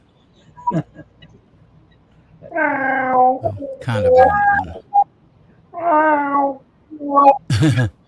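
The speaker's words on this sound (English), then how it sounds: "That's me. My cat." A house cat meows several times, loud and near, with drawn-out cries that rise and fall, while someone speaks briefly between the calls.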